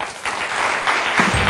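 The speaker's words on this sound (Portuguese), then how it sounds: "Quero um grande aplauso para a Maria João Ruela." Brief burst of clapping from a television studio audience, loud and continuous across a second and a half, with a low voice or thump coming through near the end.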